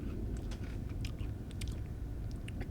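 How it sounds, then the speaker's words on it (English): A person chews food with the mouth open, giving close, wet, smacking and crunchy bites in an uneven rhythm over a steady low background hum. "I'm just sitting here talking, chewing with my mouth."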